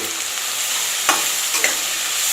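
Yogurt being added and stirred into steamed katla fish curry in a pan, heard as a loud, steady sizzle with a couple of brief scraping stir sounds and no talking.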